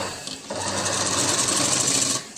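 A sewing machine stitches folded fabric for designer sleeves, a steady, close whirring run of about two seconds with no voices.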